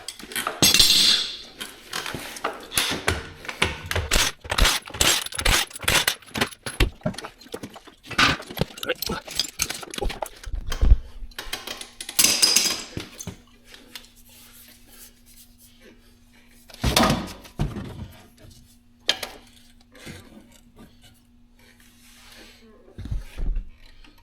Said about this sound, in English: Let me get this wheel off.